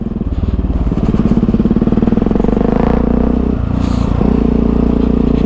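Steady rumbling engine drone of a Yamaha MT-03 660 motorcycle heard while riding, loud and continuous with a brief dip in revs before it pulls again, with wind noise on top.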